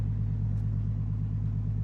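A Nissan Skyline with coolant leaking into its cylinders idles while warming up, a steady low engine rumble, close and even, with no talking.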